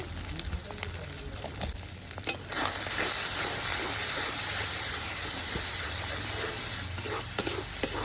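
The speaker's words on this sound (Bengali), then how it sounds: "জল দিয়ে দিচ্ছি ঝোল ফুটে গেছে" Water goes into a spiced egg curry in a home kitchen, and a dense, even bubbling sizzle rises and holds steady after a short stir, with faint clinks partway through.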